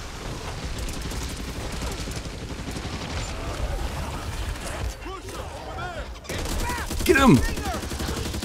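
Rapid gunfire from the zombie shooter game Back 4 Blood crackles continuously, with bursts and shots layered under excited players shouting commands, growing louder near the end.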